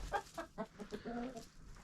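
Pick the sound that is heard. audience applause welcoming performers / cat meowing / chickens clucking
chickens clucking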